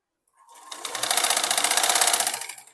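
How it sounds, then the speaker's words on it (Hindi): Sewing machine running a straight seam on a salwar, a fast, even, continuous stitching rattle that starts up and holds steady for about two seconds, close and alone. "अब ऐसे करके मैं बराबर ले सीधा सिलाई ले जाऊंगी"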